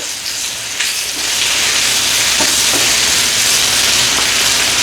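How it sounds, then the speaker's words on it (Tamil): Curry leaves and onions tempering in hot oil, a loud, continuous sizzle and hiss with a few sharper pops and crackles, close up and with no voices. "கருவேப்பிலாம் போட்டு வெங்காயங்கள் தாளிக்கணும்"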